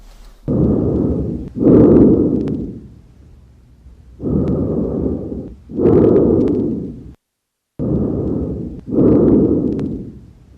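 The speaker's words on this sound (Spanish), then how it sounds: "una respiración normal" Normal human breathing, heard up close: three slow, even cycles, each a soft inhale followed by a longer, audible exhale, with brief pauses between them and no talking.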